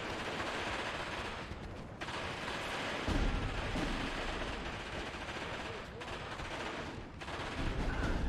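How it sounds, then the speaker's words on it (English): Continuous submachine gun fire during a Steel Division 2 battle, a dense, steady roar of rapid shots mixed with heavier explosions and rumble, loud and unbroken throughout. "those submachine guns they have,"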